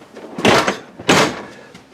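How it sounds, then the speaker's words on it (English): A door on a 2021 Keystone Bullet 287QBS travel trailer is pulled shut, giving two short, loud, broadband thumps about half a second apart, close by, with no talking. "I'm going to pull this door shut."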